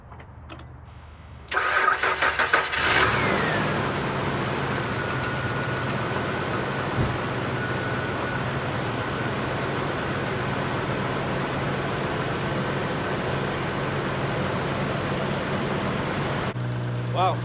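A car engine cranks briefly, catches and starts on a Gooloo jump starter power bank, then settles into a steady, fairly loud idle that runs on alone for many seconds.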